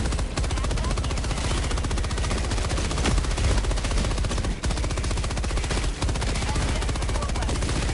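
A sentry turret in Helldivers 2 fires relentless rapid automatic bursts, loud and close, a continuous dense rattle with brief dips in between, occasional heavier impacts mixed in.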